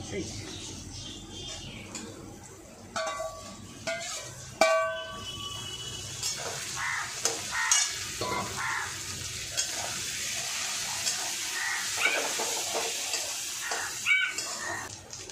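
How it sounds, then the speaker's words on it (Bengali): Kharkol leaf paste sizzles and fries with softened onions in a pan, a steady hiss broken by spatula scrapes and stirring clatter, with a voice talking over it. "এবার আমি খারকোল পাতা বাটাটা দিয়ে দেবো।"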